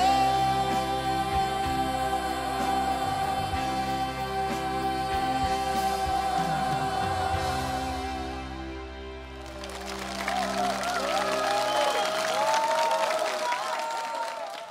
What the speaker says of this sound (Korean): 지금 이렇게 신곡에 박수 많이 나온 건요